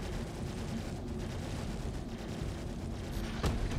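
Starfighter guns in the Star Citizen space game rattle in a continuous, dense stream of rapid fire at a Valkyrie ship, steady and rumbling at moderate loudness with a sharper crack near the end.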